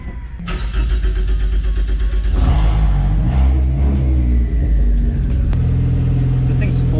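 A 2.0-liter EcoBoost engine in a lightweight, fully carbon-fiber car cranks and fires, then settles into a loud, steady running rumble close by.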